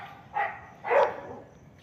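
A dog in the grass at night gives two short barks about half a second apart, moderately close and fairly faint, over quiet night background.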